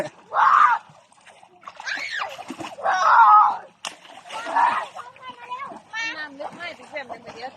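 Children jump and splash in water outdoors during rain, with bursts of splashing and sloshing mixed with excited shouts and adult voices urging them on throughout.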